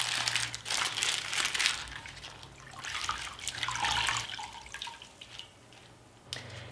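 Crumpled baking paper soaked under a running kitchen tap, steady water stream mixed with wet crinkling and squishing as the paper is worked, close and moderately loud with no talking.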